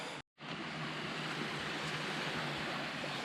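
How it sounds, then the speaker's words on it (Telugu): Water rushing at Panasa waterfall near Madanapalli, a steady broadband roar of flowing water that fills the whole clip after a brief silent gap at the start, with no voices. "వాటర్ ఫ్లో వినండి ఒకసారి."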